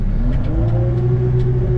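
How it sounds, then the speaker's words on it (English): Wheel loader engine on a farm in frozen conditions, a steady loud mid-range drone with a rising rev that holds throughout, nearby and continuous with no voices. "in the wheel loader, turn the brakes off"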